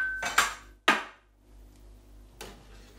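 Hops are stirred into a pot of home-brewed beer wort, producing a few sharp metallic clanks of a spoon against the pot, close and distinct, separated by short quiet gaps.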